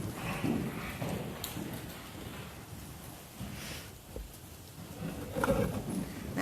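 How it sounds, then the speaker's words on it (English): Horse hooves on an arena surface as a mare shifts from trot into canter, soft rhythmic thuds at moderate distance, steady and unaccompanied by talk, with faint background noise. "She's going to pick up a canter, which is the 3rd beat in a horse's 4-beat gaits."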